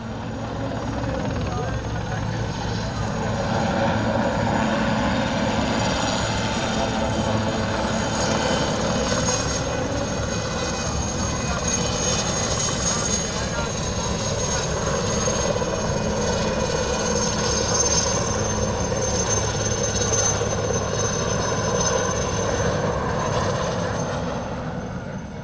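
An IAR-330 military helicopter flies at an airshow, giving a steady, droning rotor and engine roar that holds for the whole stretch while someone narrates over it.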